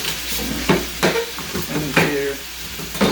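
Chicken sizzles steadily in a hot pan, broken by a few sharp scraping stirs spaced about a second apart.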